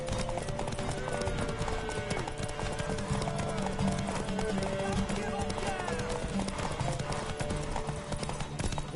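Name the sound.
horse galloping in the video game The Witcher 3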